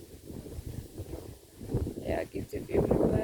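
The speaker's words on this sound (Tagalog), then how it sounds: "it's windy" Strong wind gusts buffet the microphone in a rising, uneven rush outdoors by a road, growing louder toward the end.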